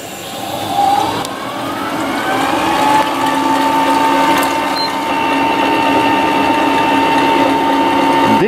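An electric stand mixer whips egg whites for Italian meringue, a loud steady motor whine with rising tones as it spins up, then a sustained whirring drone, close by and without talk.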